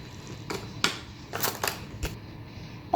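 A handheld spray bottle misting water over freshly planted soil, several short sharp hissing bursts spaced irregularly, close and fairly quiet with no talking.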